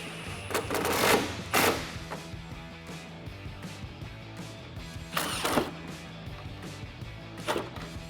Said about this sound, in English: Grab your T30 Torx bit and tighten it down.